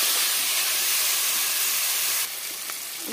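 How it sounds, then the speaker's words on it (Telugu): Chopped onions frying in a pan for a spicy mutton curry give a steady, close hiss and sizzle that eases slightly toward the end. "ఈ ఉల్లిపాయలు మంచి కలర్ వచ్చేదాకా కాసేపు వేగిద్దాం."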